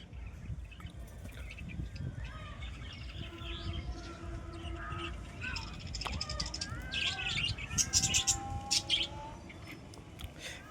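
Several birds chirp and call in a lively mix, with soft cooing tones and quick bursts growing busier toward the end.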